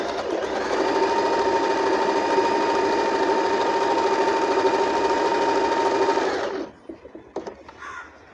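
A USHA Marvela automatic sewing machine stitches steadily and loudly for about six and a half seconds with an even mechanical whir, then stops, leaving a few faint clicks and handling knocks.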